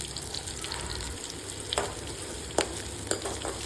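Chopped shallots and curry leaves sizzle steadily in hot oil, with a few sharp clinks and stirring scrapes, close and fairly quiet, no voices.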